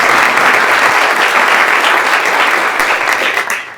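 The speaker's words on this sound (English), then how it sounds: "Let's give them a round of applause before they even start." An audience applauding a panel at a town talk event about trash, a loud, full and continuous round of clapping close by that tapers off at the very end.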